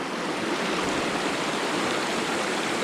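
A river running high with spring snowmelt in April rushes steadily in a broad, unbroken roar, close and loud with no voices.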